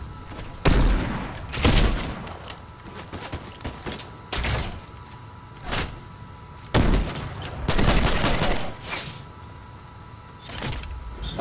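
Gunfire in the video game Fortnite comes in several loud, separate bursts of shots spread across the stretch, with quieter gaps between them and no talking.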